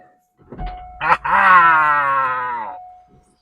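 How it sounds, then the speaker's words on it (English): A 1998 Corvette C5 power window motor lowers the glass: a brief click, then a single loud, steady whine lasting under two seconds that drifts gradually lower in pitch before cutting off. "I'm just going to get in the car and make the window up and down"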